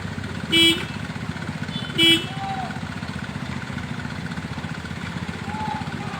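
Constant low engine rumble of a motorcycle on the move, with two short horn beeps early on.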